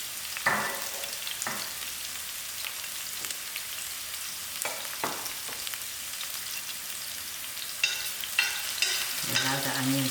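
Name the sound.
onions frying in oil in a saucepan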